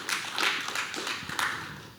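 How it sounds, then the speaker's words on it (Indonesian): Applause for Indonesia's President Joko Widodo and his wife at a formal gathering of Bali regional officials, a dense, steady patter of many hands clapping at once with no pauses for two seconds. "Tepuk tangan untuk beliau berdua."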